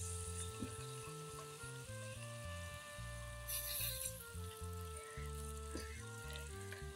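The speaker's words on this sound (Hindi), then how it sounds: "ये ऑयल गरम, ये प्याज हो रहा फ्राई।" Onions frying in hot oil for chana daal, a steady close sizzle with occasional stirring clinks, no voices.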